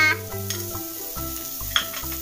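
Spring onion stirred into vegetable soup frying in a pan, a steady close sizzle with soft scraping stir strokes and a few brief clinks, no talking.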